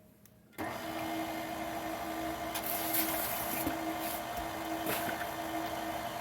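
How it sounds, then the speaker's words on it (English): An electric mixer whirs on abruptly after a quiet start, beating eggs for a homemade pumpkin pie in a bowl with a steady, close, buzzing drone and occasional scraping accents. "We'll go ahead and turn on the mixer, kind of mix them up a little bit."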